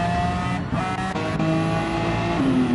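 A McLaren and a Nissan GT-R race at Suzuka in a racing game, their engines whining close and loud with rising pitch and overlapping tones as they chase each other on the straight.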